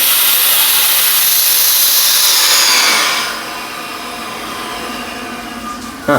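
A honey vacuum processing machine lets out a loud, steady rush of air as its valve is opened, the hiss dropping to a quieter, even flow after about three seconds and ending with a short clunk.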